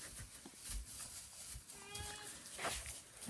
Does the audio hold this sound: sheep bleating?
yes